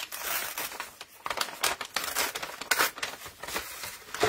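Thick wrapping paper is torn and crumpled by hand for a journal page, close up with irregular crackling rips and crinkles that continue steadily for several seconds.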